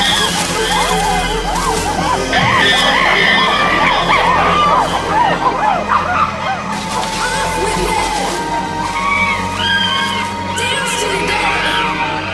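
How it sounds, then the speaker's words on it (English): Chimpanzees scream and hoot in a dense, continuous chorus during a ferocious attack on rivals, loud and near throughout, with no clear drumming on buttress roots standing out from the shrieking. "To intimidate their opponents, the aggressors scream and drum on buttress roots."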